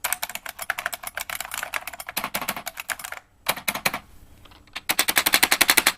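Someone types on a Unicomp Ultra Classic 103-key buckling spring keyboard: dense, crisp clacking keystrokes come in rapid runs, stop for a short gap, then resume, close and loud.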